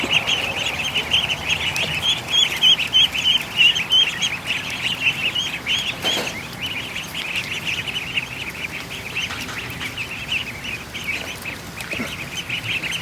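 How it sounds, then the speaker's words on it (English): Newly hatched ducklings peep continuously in a dense, high-pitched chorus of overlapping chirps at close range amid duck and goose eggs hatching, sustained throughout without pause. "I gotta go rescue a bunch of ducklings"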